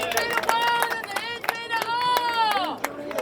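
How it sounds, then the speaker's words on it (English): Crowd at a May Day union rally for Local 10 claps for Brother Clarence Thomas, with a steady patter of hands mixed with shouts and loud cheering voices close by. "give Brother Clarence Thomas one more round of applause"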